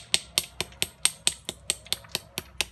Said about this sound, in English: I'm hitting with the side because the end is rounded